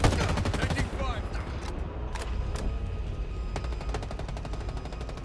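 Rapid automatic gunfire in the video game Halo Infinite, One Flag mode, with steady bursts of shots crackling throughout a dense, loud battle soundscape; a voice speaks briefly.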